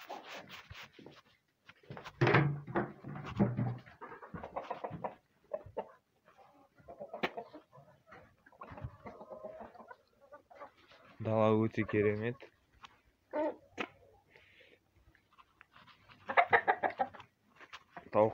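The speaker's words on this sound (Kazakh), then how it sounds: "Тауықтарым қазір әкелген тамақты жеп жатыр." Hens cluck and call intermittently while eating food brought to them, with short bursts of clucking scattered between stretches of nearby talk.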